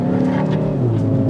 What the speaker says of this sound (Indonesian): Coba gas, Chris. Kalau digas ini harus nyala dulu